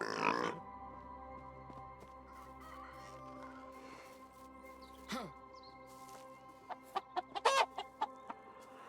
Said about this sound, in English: Chickens are so loud.